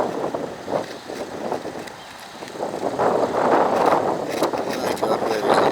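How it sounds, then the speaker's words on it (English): Strong, cold wind buffets the microphone outdoors, a steady broadband roar that swells louder in the second half with gusty surges. "it's so bloody windy and cold"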